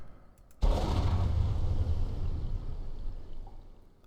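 A torpedo launches in the Wolfpack naval game, heard as a sudden whooshing burst that rushes in and slowly fades into a sustained watery hiss over several seconds.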